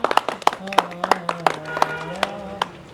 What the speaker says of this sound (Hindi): बजा दो ताली थाम तो